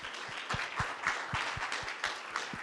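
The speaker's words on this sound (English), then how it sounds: "Help me to thank the panelists, please, by clapping." A conference audience claps for a panel in a moderate, continuous round of applause, with distinct near claps standing out over a dense background patter.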